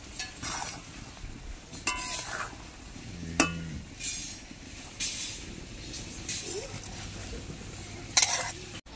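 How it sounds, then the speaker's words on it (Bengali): A spatula stirs boiled soybeans in a pot with irregular scrapes and occasional metallic clinks against the metal, close and fairly soft, over a low background hiss. "খুন্তিতে একটু নেড়ে চেড়ে নেব।"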